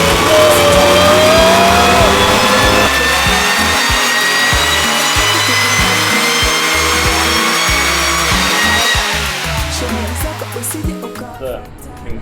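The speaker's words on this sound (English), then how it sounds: "dyno run number 2 coming up" A tuned Audi S5 with an APR stage 1 remap running on a dyno, its engine loud and close as it climbs steadily in pitch for several seconds before the revs drop away near the end.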